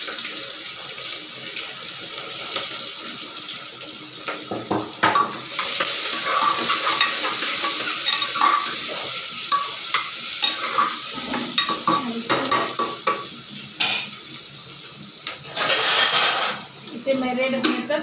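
Chopped onions and a bay leaf sizzle in a pan for Kashmiri rajma curry, stirred repeatedly so loud scraping and rustling bursts rise over a constant frying hiss, with no clear talking.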